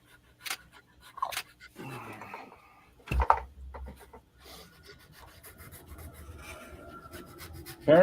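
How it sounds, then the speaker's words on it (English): Hand sanding on wood gives a few rough rasping strokes, soft and close in a quiet room, with scattered small knocks and bumps between the scrapes. "I know that sometimes sanding comes across really obnoxious."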